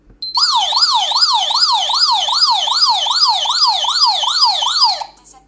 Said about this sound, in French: le SOS qui va permettre de lancer l'alarme et d'activer les sirènes